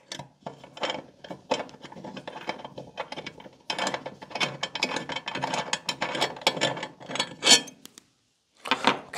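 Screws being turned out of the front cover plate of a FLO Home X5 EV charger, giving close, dense clicking and ratcheting bursts with short pauses and a brief silent gap near the end.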